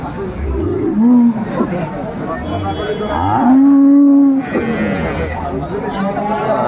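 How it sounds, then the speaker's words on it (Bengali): At a cattle market in Aftabganj, Dinajpur, a dairy cow and calf give loud, close moos, one short and one long drawn-out, over a busy background of people talking. "গাভী বাছুর আমরা দেখছিলাম এখানে"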